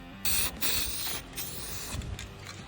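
Grey primer is sprayed from a can onto a metal rail for a light-up ramp on a hot day, heard as several close, loud hissing bursts separated by short pauses.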